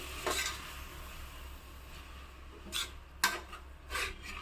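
A spoon scrapes and stirs chopped tomato pieces in a pan, giving a few soft, brief scraping strokes close by over a quiet low hum.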